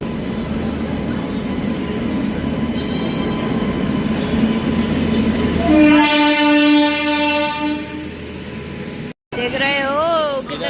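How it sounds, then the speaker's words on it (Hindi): A train rolls through a station in Kanpur with a steady rumbling clatter, then a loud sustained horn blares for a few seconds before fading, with people talking nearby throughout. "अभी कोई और ही ट्रेन आ रही है"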